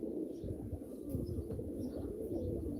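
Pigeons coo at a live pigeon auction, a steady low murmur of many birds close by with scattered faint chirps above it, continuous throughout.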